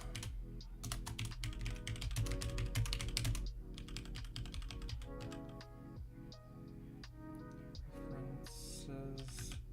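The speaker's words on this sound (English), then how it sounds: "Can't see what I'm typing right now." Rapid, irregular keystrokes clatter on a computer keyboard during a coding session, close and crisp, in dense bursts that thin out toward the end.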